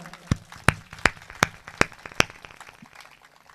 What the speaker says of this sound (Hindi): एक बार इसके सम्मान में जोरदार तालियां।